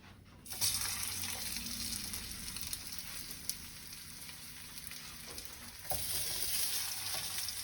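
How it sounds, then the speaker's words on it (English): Plantains hit hot oil and set off a sudden hissing sizzle that stays loud and steady. A brief splash-like surge follows partway through, all close and without talk. "So now I'm going to add my plantains to the oil."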